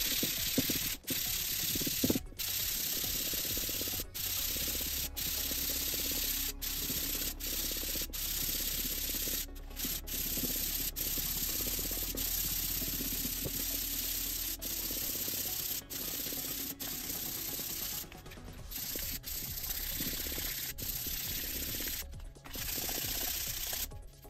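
Sandpaper rubbing over dried caulking on a handmade Boba Fett jet pack prop, a steady close scratching stroke repeating continuously with brief pauses and no talking.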